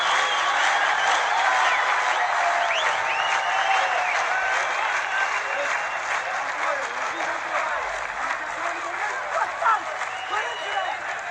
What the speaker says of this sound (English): So the crowd really responding well to this one.